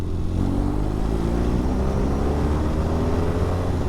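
A BMW HP2 Sport boxer motorcycle engine drones steadily as it rolls on from 30 in third gear, pitch climbing gradually, loud and close with no talking.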